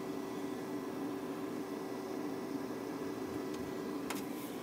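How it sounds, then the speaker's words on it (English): Loud, steady cooling fan of a SYSTOR multi USB flash drive and micro SD card duplicator, a constant broadband whir with a faint tonal hum running unbroken throughout, with a couple of brief clicks near the end. "I'm sure you can hear the loud fan playing in the background."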